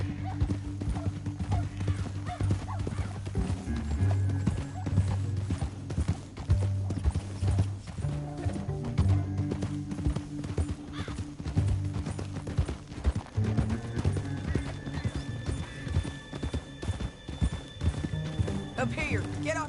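Horses gallop steadily in the Red Dead Redemption 2 video game, with hoofbeats clip-clopping throughout and an occasional neigh, all under background music and voices.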